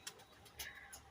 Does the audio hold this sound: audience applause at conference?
no